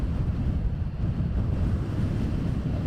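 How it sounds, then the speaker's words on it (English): Strong gale-force wind buffeting a microphone at RAF Lakenheath airfield, a steady, loud low rumble with no letup throughout. "And the wind is blowing an absolute gale."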